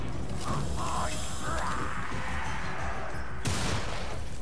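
Rifle fire in the Warhammer: End Times – Vermintide game, sounding as a dense run of mechanical clacks and shots over a steady game backdrop, with a sharp loud burst near the end.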